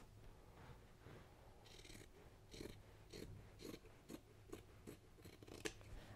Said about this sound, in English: And I'm going to cut a line right there.